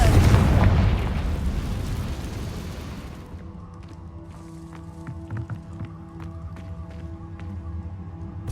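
A fiery blasting-spell explosion in Hogwarts Legacy erupts loudly at the start and rumbles away over a few seconds, leaving a quiet ambience with faint scattered clicks and footsteps.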